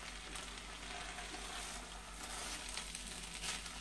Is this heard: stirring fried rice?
yes